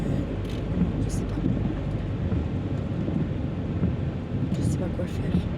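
Steady rain pours down with rumbles of thunder rolling underneath, a continuous wash of noise with some wind buffeting the microphone.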